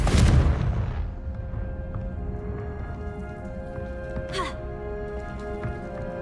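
Confringo blasting spell going off in Hogwarts Legacy, a sharp explosive burst at the start that decays into a sustained magical rumble with ringing tones and a brief whoosh midway.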